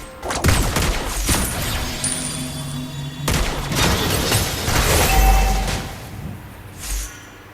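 Sniper gunshots fire from Lesley in a Mobile Legends match, sharp reports mixed with game effects and a spoken game voice line, loud and busy throughout.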